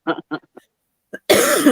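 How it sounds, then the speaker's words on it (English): A person coughs in a few short bursts and then once more after a pause, followed by a sudden burst of loud broadband noise. "I'm still coughing over that."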